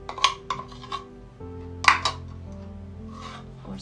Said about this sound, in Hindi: साथ में ये अदरक लहसुन और ऑनियन जो है प्याज वो भी डाल देंगे